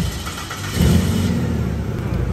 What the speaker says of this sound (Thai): สตาร์รถค่ะ